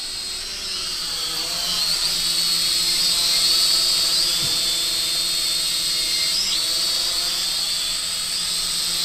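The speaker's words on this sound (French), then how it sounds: "le drone va descendre tout seul et se poser tout seul" A Syma X56W quadcopter drone descends and lands on its own, its rotors giving a steady, loud, close-up whine that holds level throughout.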